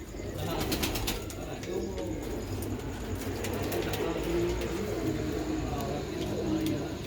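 Black-faced Sialkoti pigeons coo in a steady, continuous murmur from a rooftop loft, low and close, with people talking nearby over the top.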